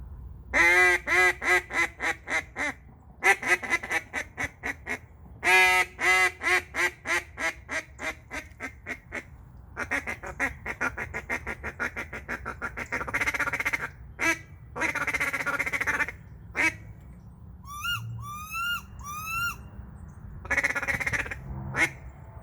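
A duck call imitates quacking in a long sequence: rapid rhythmic quack series, pauses, then drawn-out and softer calls, loud and close.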